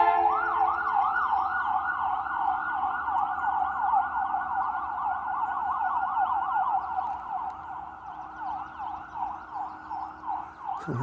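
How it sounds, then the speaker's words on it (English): An ambulance siren heard while out on a hike, wailing steadily in repeating rising and falling sweeps for the whole stretch, moderately loud and fairly near, with no talking. "It was an ambulance, I think."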